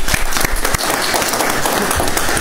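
Studio audience applause during a live midday variety broadcast, a dense, loud wash of clapping from many hands filling the whole stretch, with a few sharper individual claps standing out near the start.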